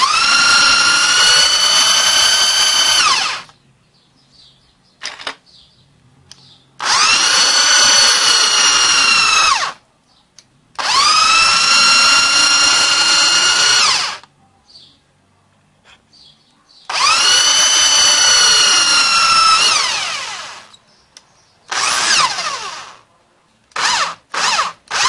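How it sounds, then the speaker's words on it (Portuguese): An electric drill whines loudly and close in four long runs of several seconds each, with quiet pauses and a few brief blips between them. "vou colocar a furadeira aqui para a gente ver."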